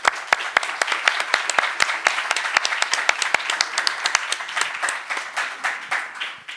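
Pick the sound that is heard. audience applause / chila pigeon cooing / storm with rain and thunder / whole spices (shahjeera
audience applause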